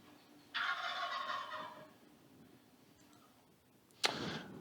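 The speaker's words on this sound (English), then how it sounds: "That is the wild turkey." A wild turkey lets out a rapid, rattling gobble at moderate distance in Florida, followed by quiet, then a sharp snapping sound near the end.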